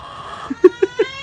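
A few short clucks from a chicken in a California garden, close by, spaced about a fifth of a second apart, with a soft steady hum behind them.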